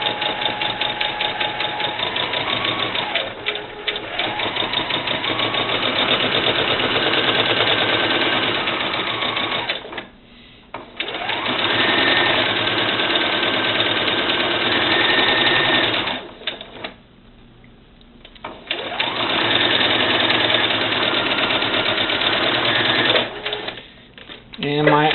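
A sewing machine stitches seams on a handmade arm for a Vanessa Valentine doll, running in steady mechanical bursts with two brief pauses between stretches, a voice talking over the stitching.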